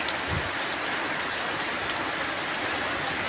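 Steady rain falls over green rice paddies in rural northeastern Thailand, a dense, even hiss of drops that stays constant and close throughout, with no voices.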